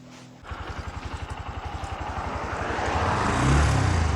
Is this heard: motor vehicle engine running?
yes